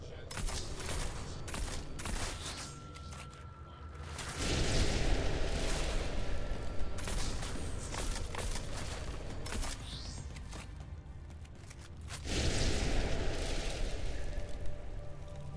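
Shotgun blasts in the game Deus Ex come in heavy bursts, loud booming shots with a dense rumble. A voice talks between the shots.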